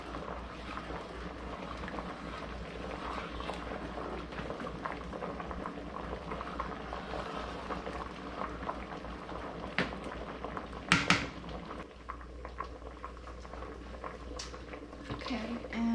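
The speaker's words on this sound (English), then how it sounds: "Bring this back up to a boil." A pot of jam mixture bubbling at a steady boil, a continuous close simmering hiss with a brief louder burst of spattering partway through.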